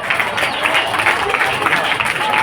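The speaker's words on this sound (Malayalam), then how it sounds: "കൈയടിക്ക്." An audience claps together at a children's stage event, a loud, dense wash of applause from a crowd that holds steady throughout with a faint murmur of voices beneath.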